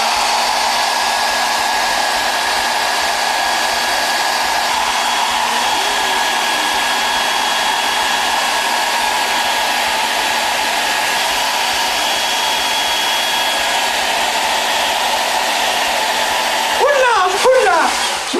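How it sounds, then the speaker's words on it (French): A small hot-air blower drying a woman's face and hair gives off a steady, close whoosh that holds at a constant level throughout. Near the end a brief rustle breaks in. "il y a une petite soufflerie qui va me permettre de me sécher le visage"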